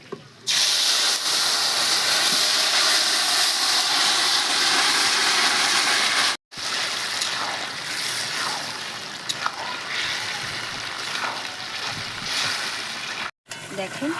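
Pieces of cockerel chicken hit a hot pan of oil with star anise, cardamom and cloves, giving a loud, dense, continuous sizzle that briefly cuts out twice.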